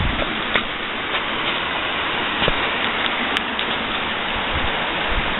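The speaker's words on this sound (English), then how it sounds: "A little creek running underneath the glacial terrace." A small creek runs beneath a glacial terrace at Parfrey's Glen, giving a steady, close hiss of flowing water with faint scattered splashes and no voices.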